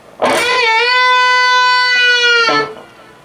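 A single sustained electric guitar note from a solo is picked and bent, held steady, then released, sounding bright and close with no talking.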